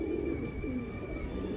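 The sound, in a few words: pigeon cooing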